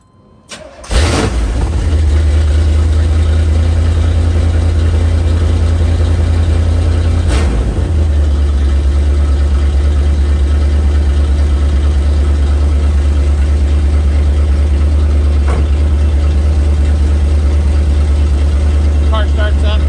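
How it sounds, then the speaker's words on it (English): A 1981 Chevrolet Corvette C3 with a carbureted engine cranks briefly and fires on a cold start, then settles into a steady, loud, even idle that runs uninterrupted with a couple of faint clicks. "Car starts up, runs really nice, choke works great."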